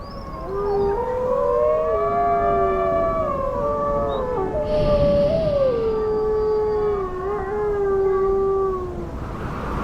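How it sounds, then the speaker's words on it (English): Gray wolves of Yellowstone's Druid pack howl in winter, several long rising and falling voices overlapping in a loud, sustained chorus that carries through the whole stretch with no talk. "This is the Druid wolf pack, one of the largest and most powerful in Yellowstone."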